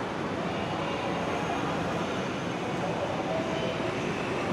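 A driverless MRT metro train pulls into a new station on a Taiwan line, a steady broadband rumble of wheels and motors holding loud and even throughout, with no pause or squeal standing out.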